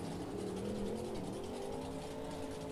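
Brutus monster truck's engine roaring steadily during a wheel stand at a Monster Jam freestyle in Minneapolis, loud and sustained with a wavering revving pitch throughout.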